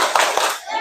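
A couple of quick claps in a classroom rhythmic clapping chant, children clapping together in a short burst that fades near the end.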